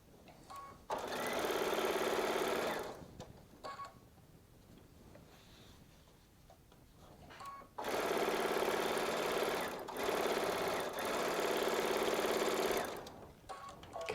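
Baby Lock Solaris sewing machine piecing a quilt seam, running in two long steady bursts of fast, even stitching with a quiet pause between, close and loud.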